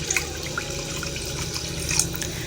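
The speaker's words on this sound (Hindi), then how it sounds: "अब इसमें तकरीबन हम 8 प्याली जितना ना हम इसमें पानी डाल देंगे साथ ही" Water splashes and trickles steadily into a pot of rice while it is being cooked, a soft running pour with scattered drips and no speech.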